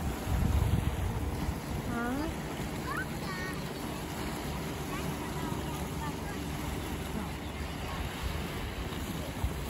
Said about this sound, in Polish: Motorówka.